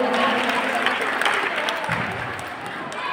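A school audience at an annual gathering and prize-giving ceremony breaks into sustained, dense applause, many hands clapping steadily throughout at a fairly loud level.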